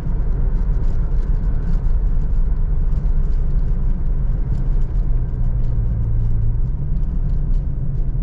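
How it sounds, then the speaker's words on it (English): 1982 Mercury Cougar XR7 cruising with a steady low engine rumble and road noise inside the cabin, the tone shifting slightly as the transmission comes out of overdrive and downshifts, no talking. "Just came out of overdrive and downshifted."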